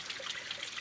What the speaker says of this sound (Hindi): ये झरना भी कल कल करके चल रहा है